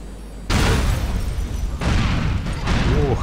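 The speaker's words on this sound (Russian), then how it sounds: "Машины взрываются." Cars blow up in Grand Theft Auto IV, a loud sudden blast after a quiet start followed by further booming bursts and rumbling debris, with no talking.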